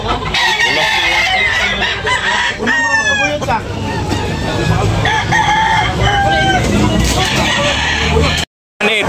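Roosters crow loudly and repeatedly at a busy chicken market in Tabunok, Talisay, with clucking fowl close by and vendors talking throughout.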